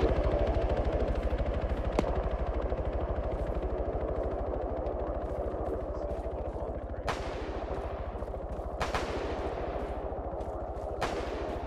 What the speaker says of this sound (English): Gunfire from the crane.